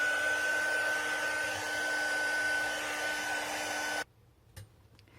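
A hair dryer blows steadily at close range to dry watercolour paint on a card, a constant whirring roar that cuts off abruptly near the end, followed by a faint knock in the quiet.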